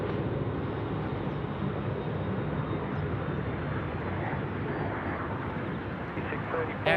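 An airliner, likely a Boeing 717, banks through a right turn near Sydney Airport, a steady, moderately loud engine roar that holds throughout while faint voices sit in the background.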